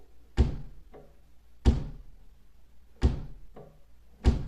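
A voice imitates a door noise with four evenly spaced dull thuds, each trailed by a softer knock, close and fairly quiet with no other sound between.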